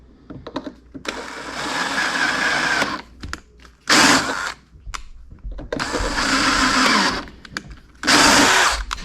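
Power drill boring into aluminum pipe, loud close whirring bursts of a few seconds each, stopping and restarting repeatedly with short gaps between runs.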